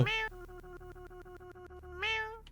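A cat in the horror video game Goodnight Me meows twice, one mew at the start and one near the end. Between them a steady tone runs under faint, regular ticking. The meows sound close and clear, and nobody speaks.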